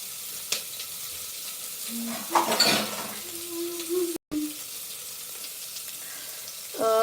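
Onion sizzling in a pan of hot oil with cumin and mustard seeds for a spicy khichdi, a steady low frying hiss with a brief stir and clatter in the middle and a short burst of kitchen noise near the end.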